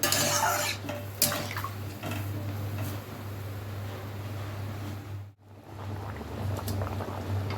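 Water poured into a pan of prawn curry as it cooks, a steady close splashing and hissing that runs nearly throughout, briefly dropping out near the end before resuming, with faint clinks of utensils.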